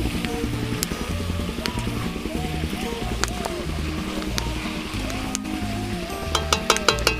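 Cut potatoes fry and sizzle as they are stirred in a pan while chicken kosha is cooked. A steady hiss runs throughout under a voice and background music.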